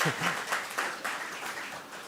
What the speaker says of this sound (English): you could give her a round of applause